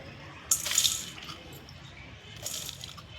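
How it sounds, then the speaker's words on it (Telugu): Small raw fish are washed by hand in water with coarse salt, two short sloshing splashes standing out against a quiet background, close and moderately soft. "మనం పచ్చి చేపలు ఎట్లా కడుగుతాం ఎట్లా కడగాలి ఉప్పేసి మంచిగా రెండు సార్లు కడగాలి"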